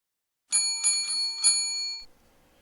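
A notification bell sound effect gives a bright, metallic ring-ring of several quick strikes, then fades into silence after about a second and a half.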